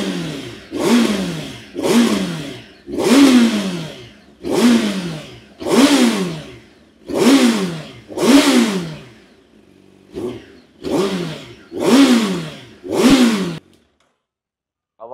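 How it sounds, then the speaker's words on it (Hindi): Hayabusa Gen 3 motorcycle fitted with a titanium full-system exhaust revs hard nine times in a steady rhythm, each loud, close burst climbing and falling away before a brief quiet end. "वो तीखापन बहुत ही ज़्यादा है और पटाखे भी मार रही है इस एग्जॉस्ट पे"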